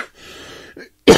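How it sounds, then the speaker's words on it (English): A single sharp, loud cough bursts out near the end after a stretch of faint background hum and near silence. "Anyways, it's just a cough."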